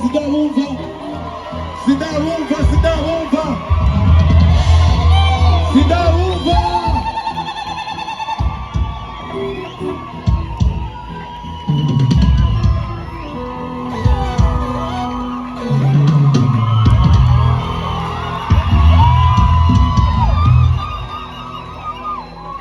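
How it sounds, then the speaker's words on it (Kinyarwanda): A church congregation cheers, whoops and applauds in loud bursts that rise and fall, with shouts and a spoken voice between the waves of noise. "Tugomba tumakire n'amashyi menshi mu izina rya Yesu Kristo"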